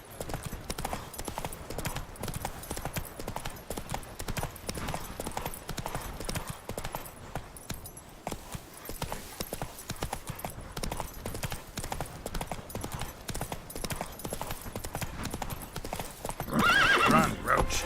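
Hoofbeats of a horse galloping in The Witcher 3 video game, a steady rapid clip-clop running throughout at close range, with occasional whinnies and a brief louder burst near the end.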